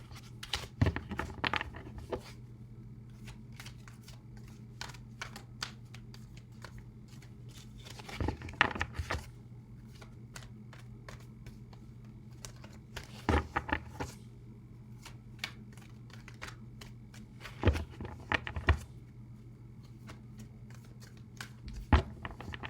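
Tarot cards being shuffled by hand, coming in repeated short bursts of crisp riffling and flicking over a low steady hum, close and fairly quiet, with pauses between bursts and no talking.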